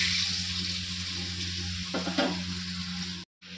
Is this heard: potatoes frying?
yes